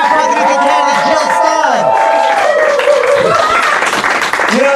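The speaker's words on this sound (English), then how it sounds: "can we get a round of applause again for our presidential candidate, Jill" A crowd at a presidential debate event claps loudly and continuously for the candidate, with cheering and raised voices mixed into the sustained applause.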